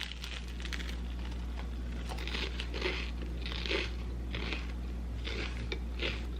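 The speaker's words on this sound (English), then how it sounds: "Y'all hear that crunch?" Close, crisp crunches from biting into toasted jalapeno country sourdough, about six bites spaced roughly a second apart over a steady low hum, with no talking.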